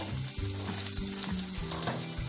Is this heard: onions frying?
yes